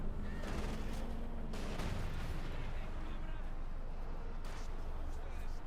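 Dense, continuous gunfire and artillery-like booms from a Company of Heroes 2 battle, with machine gun and Gewehr rifle fire blending into a loud, rumbling roar under a commentator's voice.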